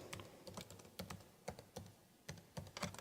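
A computer keyboard typed up close as a book title goes into a library e-catalogue search, with quick bursts of keystrokes in an uneven rhythm and short pauses between them, no voices.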